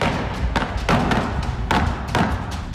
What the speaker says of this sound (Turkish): sokaklarda kurşun sesleri yankılanmaya başladı